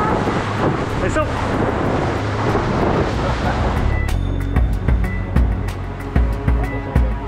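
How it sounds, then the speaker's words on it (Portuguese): A boat pounds through the surf break off Ilhabela, São Paulo, on the way to Bonete beach. Close, steady wind and water rush fills the first half, then rougher slaps and thumps of the hull hitting waves follow. "mas a cada onda que a gente batia, ia lá pro alto, eu me preparava para cair no mar"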